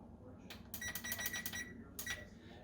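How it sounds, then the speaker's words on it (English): An oven chimes as it finishes preheating for sourdough baking, a cluster of bright electronic beeps followed by one more beep after a short pause, heard at moderate volume in a quiet kitchen. "so you hear the beep, that means I'm preheated."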